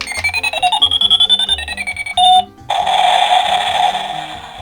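A toy robot cannon, a transforming F1-car robot toy from a Boonboomger and Gokaiger set, gives out electronic sound effects when its trigger is pressed: a rising, warbling synthetic tone and a short buzz, then a sustained bright electronic blast, loud and close.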